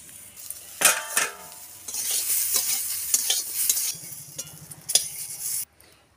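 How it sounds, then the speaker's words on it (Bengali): A katla fish head fries in a covered wok, with steady sizzling broken by loud clanks and scrapes of a spatula and lid against the metal before the sound cuts off abruptly. "একটু ঢাকা দিয়ে ভাজছে।"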